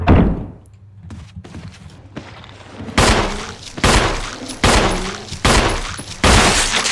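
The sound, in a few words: gunshot headshot in the video game Resident Evil HD Remaster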